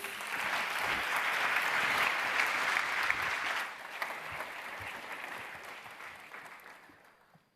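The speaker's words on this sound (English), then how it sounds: "A round of applause, please." Sustained audience applause fills a hall at a World Food Forum closing ceremony, holding strong for a few seconds before gradually thinning and fading out.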